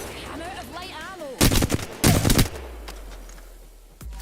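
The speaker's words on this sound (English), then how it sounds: "The shots are feeling a little crispy." Gunshots in a video game come as two loud, close bursts of rapid fire separated by a short pause, with a single sharp shot near the end, following a stretch of game music or voice tones.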